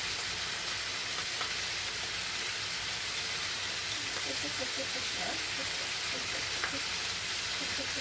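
Seasoning sauce for perilla-leaf jajangmyeon sizzling and bubbling in a hot pan, a loud continuous crackling hiss with scattered pops throughout.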